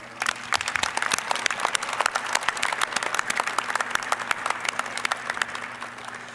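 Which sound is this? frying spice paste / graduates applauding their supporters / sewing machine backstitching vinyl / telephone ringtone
graduates applauding their supporters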